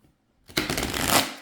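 A crisp riffle shuffle of a tarot deck after a brief silence, a rapid flutter of snapping cards lasting about a second, close and fairly loud.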